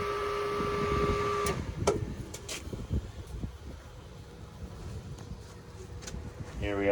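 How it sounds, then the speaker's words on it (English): A Speedy BOLT 110V pump puller motor whirs steadily while lowering a well pump, a thin buzzing drone with clicks and clanks of hose and fittings, moderately close. "Here we have the Speedy BOLT lowering the pump back in place."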